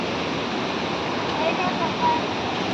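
Rushing water of Bamni Falls heard from above, a steady broadband roar of falling water, loud and continuous with no breaks and no talking.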